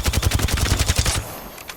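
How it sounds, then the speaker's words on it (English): A Volt SMG fires in Apex Legends as one rapid, evenly spaced burst of about a dozen loud, close shots lasting just over a second, then falls silent. "Now this is the Volt SMG's recoil pattern."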